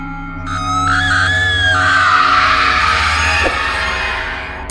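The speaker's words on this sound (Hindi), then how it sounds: "अरे ये इतनी रात को कौन इस तरह से चीख रहा है।" Scary screaming sound effect in a haunted house horror story, a loud sustained shrill scream rising and wavering over a low droning background, heard alone.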